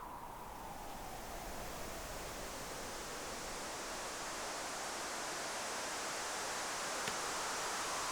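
Layered synthesized wind effect, a steady broadband rush with a soft whistling sweep drifting downward, holding at a constant moderate level for the whole stretch.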